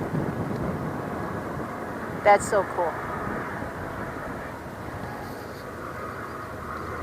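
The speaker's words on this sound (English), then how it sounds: "I don't know if you guys can hear the train behind me." A distant freight train rumbles steadily behind a roadside spot on Old Route 66 in the Cajon Pass, a continuous low roar mixed with wind, while a person briefly speaks over it.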